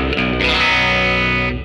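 A Grez Mendocino baritone electric guitar played on its gold foil bridge pickup rings out as a loud strummed chord, with a brief attack before a fuller chord that sustains about a second and then fades, colored with slight distortion.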